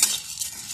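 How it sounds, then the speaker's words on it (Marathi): Chana dal dry roasting in a pan on low heat is stirred continuously, a short, close scraping rustle of grains against metal with a faint hiss. "हरभऱ्याची डाळ सुद्धा तांदळासारखी सतत हलवायची, गॅस मंद ठेवायचा"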